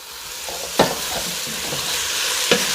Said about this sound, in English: So I'm gonna stir this around